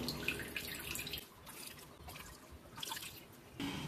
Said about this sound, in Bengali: এবারে হাত দিয়ে জলটা চেপে বার করে এই রাসামের মধ্যে দিয়ে দেবো